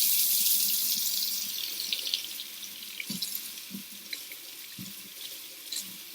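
A tap running warm water for hand washing in a patient's room, a steady close hiss of flowing water into a sink with occasional splashes and soft knocks of hands beneath it.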